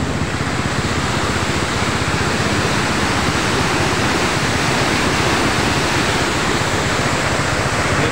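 Strong floodwater rushing down a swollen river during heavy rain, a loud, steady roar of turbulent water running continuously and close by, with no voices.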